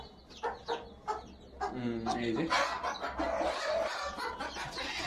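Chickens and chicks cluck close by, with several short calls at first and then denser, continuous clucking. A person speaks over the birds.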